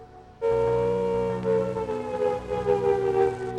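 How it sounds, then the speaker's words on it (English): Civil defence air raid warning siren wailing loud and steady after a quiet opening, its rising and falling tone sustained without voices. "When you hear these warning sirens,"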